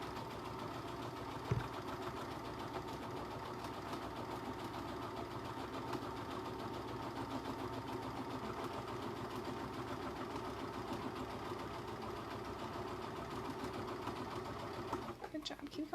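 A sewing machine stitches a fabric scrunchie, running in a steady, unbroken mechanical whir throughout, with a brief clatter near the end and a person talking occasionally over it.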